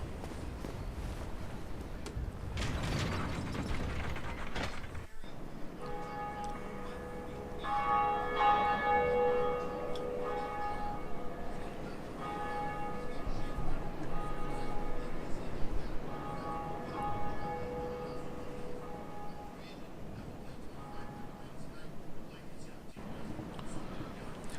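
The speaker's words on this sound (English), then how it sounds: "we're gonna ring the first bell" In the Dark Souls video game a large church bell is rung, its deep resonant tolls sustaining and slowly decaying for many seconds, with someone talking quietly over the game sound and footsteps.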